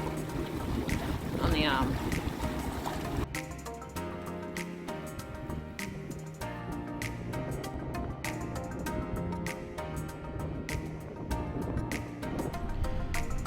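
Water slaps against the hull of a sailboat moored in rainy, windy weather, a constant choppy wash mixed with wind noise, with a voice speaking briefly.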